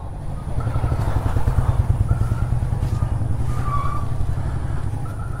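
A man bringing a vehicle over, its engine rumbling steadily and fairly close throughout, with faint chirps and background noise outdoors.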